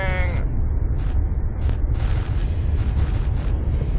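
Gunfire in Hidden & Dangerous Deluxe comes as dense, rumbling bursts of shots and booming impacts, loud and continuous over a noisy battle backdrop.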